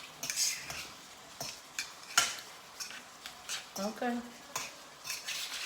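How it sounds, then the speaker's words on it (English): Vegetable salad without lettuce is tossed in a bowl, with irregular scraping and clattering of utensils against the dish, close and fairly soft, and a voice speaking briefly. "there's the salad, and you mix it."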